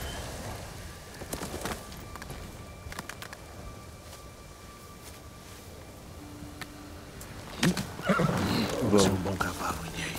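A horse named Yen in the video game Ghost of Tsushima gives a neigh near the end over a quiet, ambient game backdrop with scattered faint hoof and rustle sounds.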